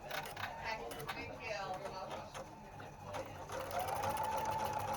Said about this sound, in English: It's stitching my J again.